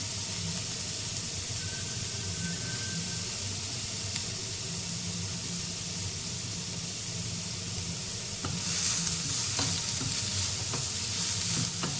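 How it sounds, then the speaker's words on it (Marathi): Carrots sautéing with onions in a hot pan hiss in a continuous, close sizzle, with brief scraping stir bursts toward the end. "गाजरी दोन तीन मिनटं परतून घ्यायचे आहे आपल्याला"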